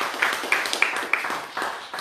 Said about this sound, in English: And then Jeremy and Rock, clap it up for these two too.